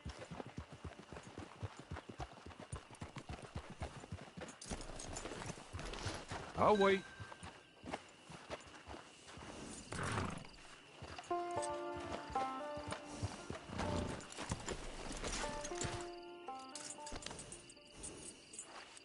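A horse's hooves clip-clop steadily along a trail in a western video game, with a brief neigh, under ongoing character dialogue and background music.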